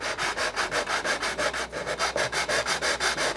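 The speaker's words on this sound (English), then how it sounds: "So this is 220 grit sandpaper, and all I'm doing is I'm going to just press it down evenly" Wood sanded by hand with 220 grit sandpaper pressed down evenly, giving rhythmic back-and-forth scratchy strokes at about five or six per second, close and steady, with no voice.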